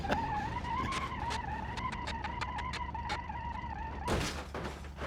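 A mid-70s 149 horsepower Bruckle Moonhawk in BeamNG Drive comes down hard after a jump, a loud crunching thump near the end following sustained engine whine and a string of sharp clicks and knocks.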